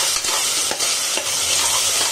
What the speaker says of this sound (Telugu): ఇది ఒక 2 minutes fry అవనిద్దాం ginger garlic paste అనేది.